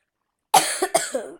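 Two sharp, close coughs in quick succession, the second followed by a short raspy tail, with silence before.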